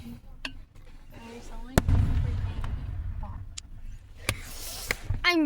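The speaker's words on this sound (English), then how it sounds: "I'm recording a video of fireworks." Several fireworks burst outdoors, with a sharp crack near two seconds and another near four, then crackling, over continuous rumbling noise and a distant murmur of voices.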